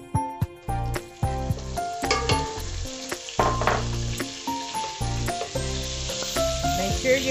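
Three tablespoons of butter hit a hot pan where potatoes have crisped for a creamy potato soup, giving a broad steady sizzle that sits beneath loud background music.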